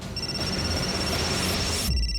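A telephone rings in a tense domestic drama scene, a steady electronic tone sustained over a busy background mix for about two seconds before cutting off.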